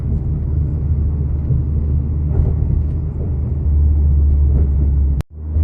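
A car fitted with a Ralliart Ultimate Racing exhaust, heard from inside the cabin at about 2,500 RPM and 25 mph in neighborhood driving, gives a steady low drone that swells slightly, then a sharp click and brief dip at the end.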